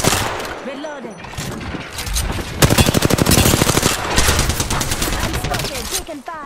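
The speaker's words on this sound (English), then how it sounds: "Taking fire." Gunfire in the Apex Legends battle royale game, rapid automatic bursts of loud close shots in rattling volleys with scattered single cracks, layered with game voice callouts.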